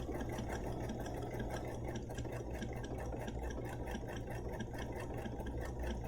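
A Bernina sewing machine stitches steadily with a fast, even mechanical whir and rhythmic needle ticking, continuous and close throughout.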